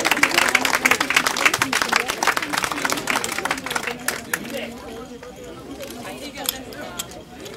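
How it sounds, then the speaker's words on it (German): Applause and clapping from a crowd honoring the medal winners of a canoe race at a club city-cup regatta, dense and steady for several seconds, then thinning into scattered claps with a voice over it. "Applaus."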